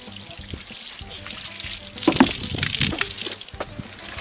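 Water pours and trickles into a farm animal's container in a busy farmyard, a steady splashy stream building midway with small clinks and knocks, fairly close.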